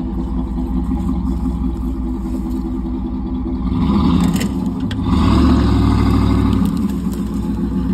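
A Cadillac Escalade engine drones steadily while towing a stuck Honda CR-V, then revs harder in two loud surges near the end before settling back.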